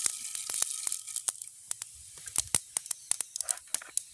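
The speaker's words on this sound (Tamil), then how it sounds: "எங்களுக்கு எண்ணெய் நல்லா சூடாகிட்டு நாங்கள் கடுகை போடுவோம் அதோட பெருஞ்சீரகம் மற்றது வெந்தயம்" Mustard seeds, fennel and fenugreek crackle in hot oil: a hissing sizzle at first, then sharp, irregular pops and spits, close and fairly loud, with no talk.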